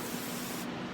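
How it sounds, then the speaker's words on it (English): A can of WD-40 lubricant sprays in one short, steady hissing burst, close and continuous, while working on Dodge Ram ball joints and tie rods. "Spray a little more"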